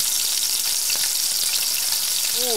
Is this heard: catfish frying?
yes